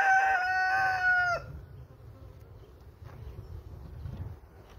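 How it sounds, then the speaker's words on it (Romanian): A rooster near beehives crows loudly and close by for just over a second, a strained sustained call that cuts off abruptly, followed by quiet low buzzing of bees in the background. "Du-te, mă, cocoșule, de aici, că chiar acum îți găsești și tu să cânti"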